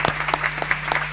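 Steady applause from a small audience at a live reggae radio session in Argentina, dense overlapping claps throughout with no voices on top.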